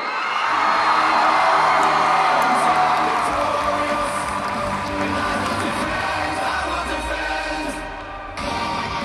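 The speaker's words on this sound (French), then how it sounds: "Je vous demande d'applaudir très très fort" A large crowd at a European cosplay gathering cheers, whoops and claps loudly for a participant, a sustained roar of voices that swells early and then tapers, with a sudden cut near the end.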